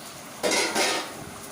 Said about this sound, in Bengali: তো এইবার এর মধ্যে ভাজা চিকেনগুলো দিয়ে দিলাম, দিয়ে এটাকে ভালো করে খুন্তি দিয়ে নেড়ে চেড়ে দিচ্ছি।